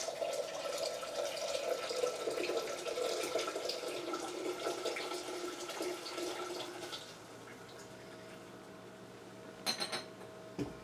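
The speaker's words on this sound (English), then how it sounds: "And the water, which I have just boiled." Freshly boiled water pours from a kettle into a bowl of lemon punch, a steady splashing flow for about seven seconds that then tapers off, followed by a few faint clinks near the end.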